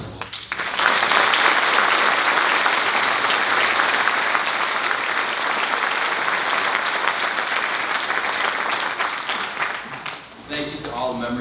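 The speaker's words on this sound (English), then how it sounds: "I'll put a round of applause for the director, Mr. DeWolf." A school winter concert audience applauds the director, a dense, loud burst of clapping from a large crowd sustained for about ten seconds before tapering off as a voice begins speaking.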